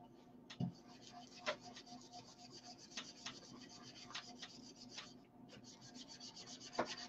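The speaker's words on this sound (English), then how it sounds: "I'm just going to wax over the top of it. Again, rubbing it in pretty hard." Clear wax rubbed hard into a painted surface with a cloth, a faint, steady rasping scrub with occasional sharper scratchy strokes in an irregular rhythm, quiet and close.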